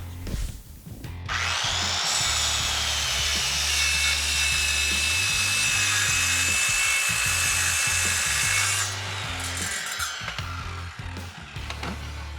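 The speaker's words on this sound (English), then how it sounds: "It helps me cut a straight line with skill saw." A handheld circular saw rips through wood along a straight-cut guide track, a steady, loud, high whine running for several seconds close by before spinning down, with clunks of handling at the start and end.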